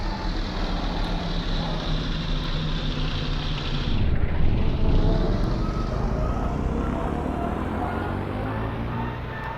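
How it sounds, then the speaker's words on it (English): A plane passing overhead on Union Island, a broad steady engine roar that swells briefly at its loudest moment and then eases away, heard outdoors without speech. "Listen, I hear a plane."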